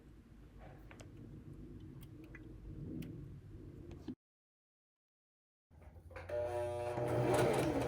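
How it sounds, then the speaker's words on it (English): A sewing machine runs a blind hem stitch on linen pants, its quiet mechanical ticking carrying on for about four seconds, then stopping in silence before restarting louder and busier. "I'm just doing the straight stitch on the flap here, and then the point of the blind hem stitch that moves over to the left is just barely catching the pant leg."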